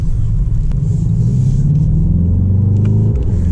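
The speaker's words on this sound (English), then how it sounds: "this car sounds like a monster, not just inside, but on the outside as well" A deep, throaty Mercedes-AMG GT 63 engine rumbles loudly and steadily nearby, with a low growl that swells slightly as it idles and revs.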